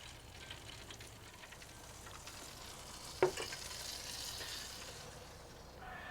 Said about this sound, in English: I'm going to go ahead and baste this again